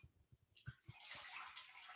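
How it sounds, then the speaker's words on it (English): Water pouring into a pan to make stock for risotto, a faint rush of running water that starts after a few soft clinks and splashes and continues steadily. "we put some water in the pan"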